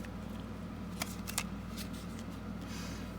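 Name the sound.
shuffling tarot cards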